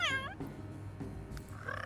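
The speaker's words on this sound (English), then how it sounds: "if you've ever heard a Siamese meow, they are loud and noisy and they have very high pitched voices" A Siamese cat in The Sims 3 gives two short, high-pitched meows, one at the start and one at the end. Between them is a faint, low murmur. The calls are moderately loud and close.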